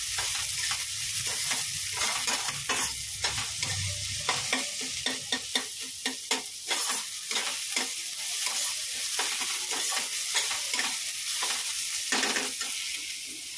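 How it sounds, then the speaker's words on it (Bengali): Meat stir-fries in a home pan, loud sizzling broken by a busy run of scraping, clattering spatula strokes in an uneven rhythm, close up with no talk. "মাংসটা দিয়ে আমি কষাচ্ছি ভালো করে"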